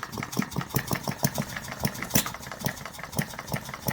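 A 1/8 scale model Reid engine running with its main cylinder oiler left on, producing a close, steady rhythmic chuff-and-knock beat of evenly spaced pulses.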